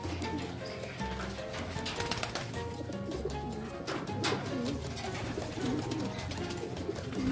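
A racing pigeon coos repeatedly in its loft in soft, throaty rolling calls, surrounded by the shuffling and fluttering of other birds close by.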